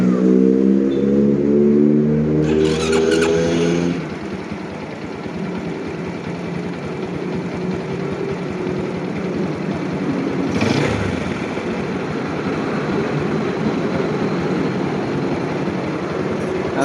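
Honda Jupiter Z motorcycle engine idling steadily close by, a continuous rough drone that starts with a slight whine and then settles into an even idle, with one brief louder swell partway through.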